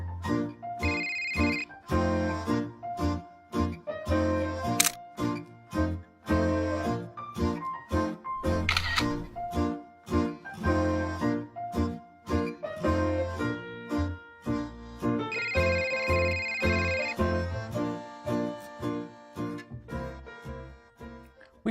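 A smartphone rings with a repeating electronic ringtone melody that runs steadily throughout, loud and close, with no talk.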